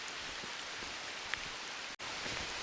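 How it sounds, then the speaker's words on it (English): Heavy rain pours steadily onto a forest trail near a creek and falls, a dense, continuous hiss close around with a brief break near the end. "Starting to pour."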